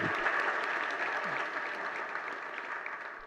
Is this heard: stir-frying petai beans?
no